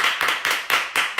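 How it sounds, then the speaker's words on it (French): An audience at a talk on role models and success gives a short burst of clapping, a few loud, evenly spaced claps close by. "On applaudit."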